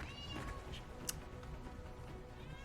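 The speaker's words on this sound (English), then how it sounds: "If you wanted to hear my cat, she's here now." A domestic cat meows faintly a couple of times in a quiet room, soft and brief against low background noise.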